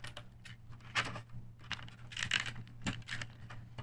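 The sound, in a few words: tape runner applying adhesive to an index card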